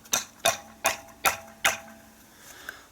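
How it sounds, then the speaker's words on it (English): A hammer taps a reloading die to resize the neck of a .223 / 5.56 rifle case, five sharp, evenly spaced metallic knocks up close, then a faint final tick, with no talk. "I'm going to hammer that down until it's flush"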